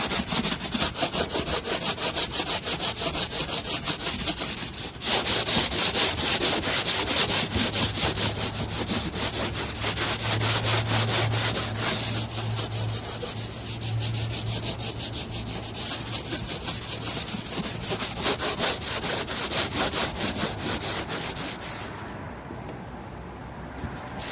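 A Scotch-Brite pad soaked in lacquer thinner scrubs the wet roof of a Lance truck camper, making loud, close, continuous rasping strokes that run steadily without any talk.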